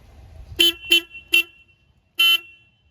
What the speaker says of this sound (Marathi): आता तुम्हाला एक गोष्ट ऐकून दाखवायची राहिलेली आहे तर म्हणजे गाडीचा हॉर्न